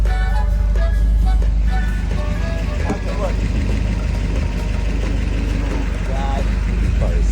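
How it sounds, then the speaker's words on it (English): A 1960 Ford Fairlane with a factory 352 HiPro V8 and three-speed overdrive idles steadily with a low, rumbling engine drone, close and loud, while people talk over it. "Got it running. Got the Merc running."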